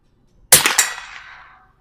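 A single sharp crack of a .22 short smoking round fires close and loud, followed by a quick echo and a long fading ring downrange.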